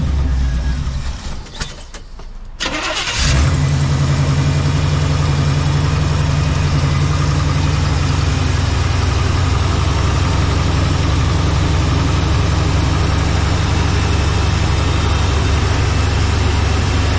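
A 1966 Chevy C10 pickup engine, restarted after sitting over three years, cranks briefly and then settles into a loud, steady, close-up idle with a deep low rumble and no talk.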